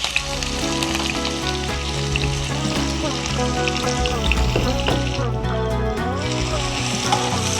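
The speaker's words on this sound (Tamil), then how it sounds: "வெங்காயம் போடணும் அது லைட்டாக சிவப்பு நிறமாக வரும்" Chopped onions fry in a hot pan for a chicken mint thokku, a steady, busy sizzle running throughout with faint bubbling and splatter, close and fairly loud with no talk.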